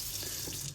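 Hot water running steadily from a tap fed by a newly installed propane tankless water heater, a continuous broadband hiss and splash, fairly close and alone without talk.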